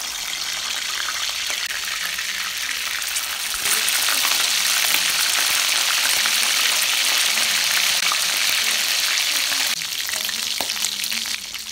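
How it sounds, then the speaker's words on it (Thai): Mackerel frying in hot oil to make it crisp, a steady loud sizzle with bubbling that gets louder for a stretch in the middle and then eases slightly, with no talking. "เรามาทอดปลาทูให้กรอบกันก่อนค่ะ"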